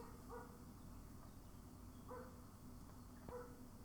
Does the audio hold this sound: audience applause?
no